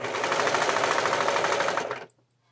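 Sewing machine stitching a man's shirt, running loud and close with a rapid, even mechanical chatter for about two seconds before stopping abruptly.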